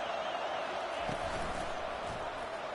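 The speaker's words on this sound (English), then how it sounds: "Listen to the crowd energy here in the early going." A dense, steady crowd roar fills the stadium at a Mizzou college football game, loud and constant throughout with no distinct breaks.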